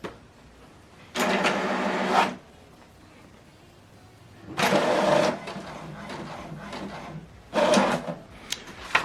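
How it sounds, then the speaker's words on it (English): An HP DeskJet 2820e all-in-one inkjet printer feeding and printing a page: three loud mechanical bursts of whirring and rattling, each lasting one to two seconds, separated by quieter pauses, heard close by. "select continue to print the second page"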